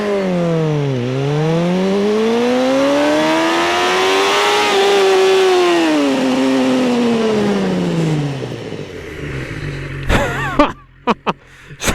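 A 2012 BMW S1000RR sport bike pulls hard from a standstill toward 100 km/h, its engine note climbing steadily through several gear changes with brief dips at each shift. It is loud and close, then cuts off near the end into a few sharp bursts.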